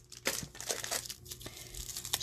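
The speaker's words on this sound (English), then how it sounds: "So you crumple up your paper." Sheets of cardstock or glossy photo paper are crumpled by hand, giving close, dense crinkling and crackling bursts that come in irregular, overlapping waves.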